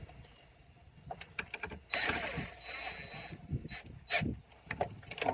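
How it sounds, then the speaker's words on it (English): Intermittent mechanical clicks and metallic ratcheting as a tiller bolt is run up on SeaStar hydraulic outboard steering, close and fairly faint, in irregular bursts. "All I'm doing here is just running our tiller bolt up just a little bit"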